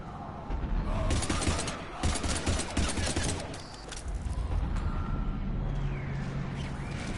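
Rapid gunfire bursts from combat in the video game Mass Effect 3 against Husks, dense and loud through the first half, then giving way to mechanical rumble and ambient game noise.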